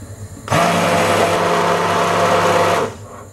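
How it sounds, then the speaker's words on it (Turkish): A blender purees cauliflower soup, whirring loudly and steadily for a few seconds, starting abruptly and cutting off with a brief wind-down. "Pürüzsüz hale gelene kadar blenderdan geçiriyoruz."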